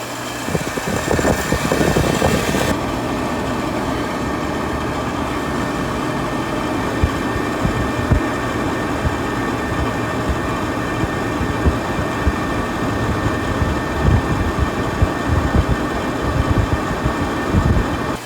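A Central Boiler Edge 350 outdoor wood boiler fires up with ignition air, giving a steady low mechanical hum and rush of air with irregular thumps, louder at the start before settling into a constant drone.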